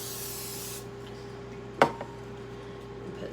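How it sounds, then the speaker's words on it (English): A quick, close burst of cooking spray hitting a pan, one short hiss followed by a faint second puff, over quiet background hum. "Spray your pan real good."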